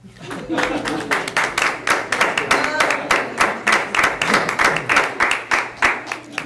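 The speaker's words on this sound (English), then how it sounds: "Applause" Rhythmic, evenly paced clapping from an audience at a board meeting, close and distinct, with the claps falling in a regular beat of the kind a crowd keeps while applauding together.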